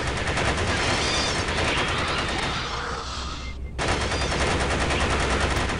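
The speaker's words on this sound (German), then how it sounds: "Ja, knallt sie alle ab!" Continuous rapid automatic gunfire in the Aliens vs. Predator 2 video game, loud and dense throughout, with a brief break just before the end before the shooting resumes.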